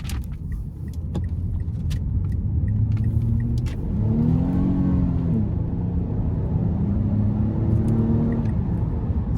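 A 2011 Mazda CX-9 AWD with a 3.7 V6 pulls hard at full throttle out of a corner, its engine note rising and rumbling loudly and steadily from inside the cabin, with a few small clicks and rattles early on.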